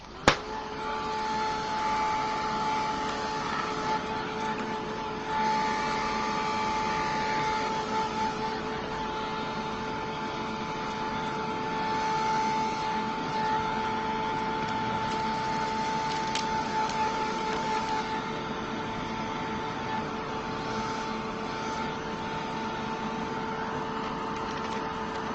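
A drying tool blows steadily over wet paint on an art journal page, a continuous broadband whoosh with a faint motor whine lasting throughout, loud and close, with no talk.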